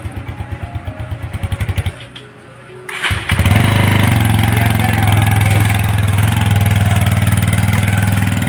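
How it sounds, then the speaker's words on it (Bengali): A motorcycle engine sputters with rapid, rhythmic pulses, drops away briefly, then catches and roars to life. Close and loud, it settles into a steady running rumble. "আর অভি একটু আস্তে বাইক চালিও"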